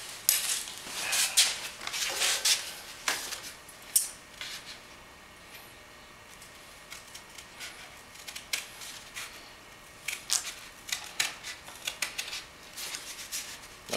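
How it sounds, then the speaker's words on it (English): Scissors snip through thin sheet metal while fabricating a spill can for TIG welding, giving a run of sharp, close metallic cuts and clicks, with quieter handling noise in between. "Grab my scissors."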